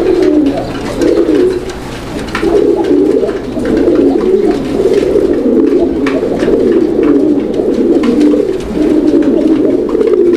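A male pigeon at a market stall coos repeatedly in deep rolling phrases, loud and close, with brief pauses between bursts and faint background noise.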